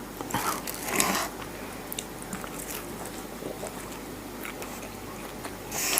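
Someone bites into and chews a large, cheese-heavy kebab pizza, with crunchy, wet mastication noises close to the mic over a steady low background hum.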